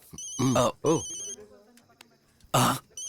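A telephone ringtone chiming in repeated bursts between short stretches of voices and vocal sounds, fairly loud and close.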